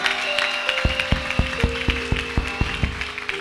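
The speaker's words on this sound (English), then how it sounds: "If you are clapping for Jesus, clap well" Rhythmic clapping in a steady beat, many sharp claps in time over a sustained musical tone in the background.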